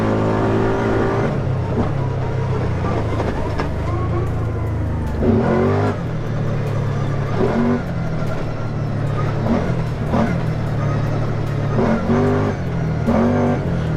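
A 2019 Kawasaki Teryx4 LE side-by-side driven hard on a hot lap at Highland Park, its engine loud and close throughout with a steady drone and repeated revving surges as it accelerates.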